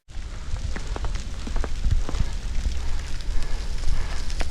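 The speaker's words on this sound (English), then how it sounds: "Yep, that's hail." Hail pelting down on a high mountain route in central Peru, a dense, steady patter of scattered sharp ice strikes over a low rumbling wash, moderately loud and close throughout with no talking.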